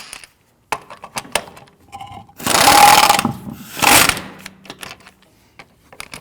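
A power tool tightens wheel lug nuts on a 2013-2019 Ford Police Interceptor Utility, two loud close bursts of rattling impact whirring, surrounded by scattered clicks and clanks of sockets and metal parts.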